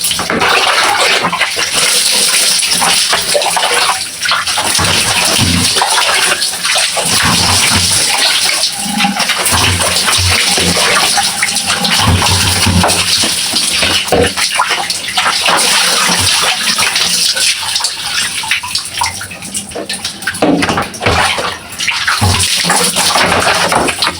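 Water from a tap or shower rinsing conditioner out of hair during a bath, a continuous loud splashing gush with shifting texture, running almost without a break.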